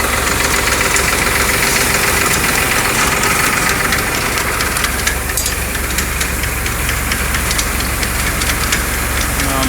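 A tractor engine runs steadily at close range, its loud, even drone with a knocking idle holding unchanged throughout, ready for pulling a crop sprayer on a farm.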